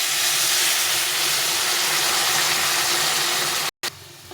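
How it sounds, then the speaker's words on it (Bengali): Hot water poured into a pan of vegetables being fried for a Bengali fish and vegetable curry, giving a loud, steady broadband sizzling hiss that holds for several seconds, then cuts out briefly before resuming. "এখন আমি এর মধ্যে জল গরম করে রেখেছি, এই গরম জলটা দিয়ে দেবো।"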